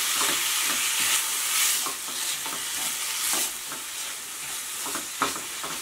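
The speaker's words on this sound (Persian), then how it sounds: "الان گردویی که پوره کردم اضافه میکنم به پیاز و با هم تفتشون میدم." Ground walnuts sautéed with onions in a pan over medium-low heat, a steady soft sizzle with rhythmic scraping and stirring strokes, close and uninterrupted by talk.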